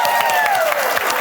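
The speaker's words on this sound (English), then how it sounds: "I would also love to give a round of applause to our technician in the back, Jordan." An indoor audience claps in a dense, steady round of applause at a live comedy panel show, loud and close, with a sustained electronic tone sliding downward underneath.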